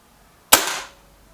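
A single sharp crack from a Beeman air rifle firing, sudden and fairly close, decaying quickly into silence.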